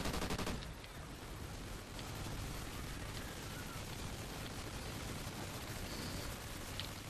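Dense, continuous automatic gunfire fills a Call of Duty Extinction match, a constant rattle of shots layered over the game's noisy background.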